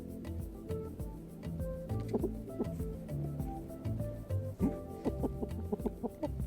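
A chicken on a small homestead clucks repeatedly in short, uneven bursts close by, with scratchy movement and faint clicks around it and no talk.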